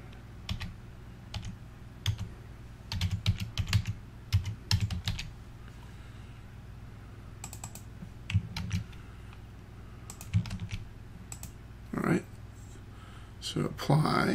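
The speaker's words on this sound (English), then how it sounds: "type in the password and make sure it's okay" A password being typed on a computer keyboard while setting up an AMAKE WiFi range extender: bursts of close, crisp key clicks separated by pauses, with a voice talking at times.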